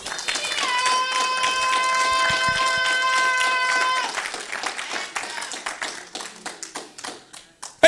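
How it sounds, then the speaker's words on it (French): Applause from a church congregation: clapping runs under sustained keyboard chords, then continues alone as brisk, uneven claps that thin out toward the end, loud and close. "Vos applaudissements là, c'est petit"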